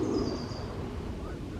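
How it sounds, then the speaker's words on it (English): Owl-like hooting birds call in a wooded forest park, a near hoot standing out at the start before fading into steady woodland background noise. "Lots of noisy birds."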